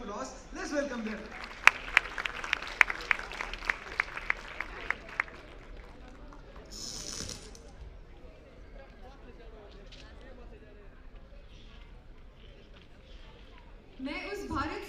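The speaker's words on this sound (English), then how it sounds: "So बुलाते हैं उनको stage पे with a huge round of applause." Applause and cheering from a university audience at a Republic Day celebration, welcoming student performers to the stage, with sharp claps and crowd noise in the first seconds, then a steady, quieter hubbub.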